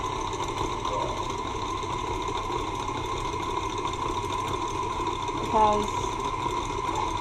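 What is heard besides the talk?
mixer whipping honey and gelatin mixture at higher speed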